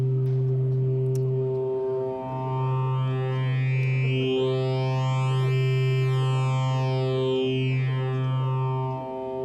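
Pittsburgh Modular Microvolt 3900 analog synthesizer oscillator driven through its wave folder, based on the Double Helix oscillator circuit: a sustained buzzy tone with many stacked harmonics that sweep and fold upward and back down, loud and steady with brief dips, heard alone.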